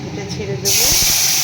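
Spice paste hits hot oil in a pan of Bengali chhanar dalna, and a loud, sudden sizzling hiss starts partway through and holds steady, just after a voice speaks.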